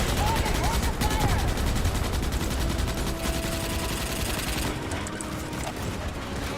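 Continuous rapid automatic gunfire from the Starship Troopers: Extermination video game, loud and dense throughout with sustained bursts and a faint alert tone in the background.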